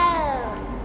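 A cat in the video game Hogwarts Legacy gives one short, clear meow with a falling pitch, close by, fading into quiet background ambience.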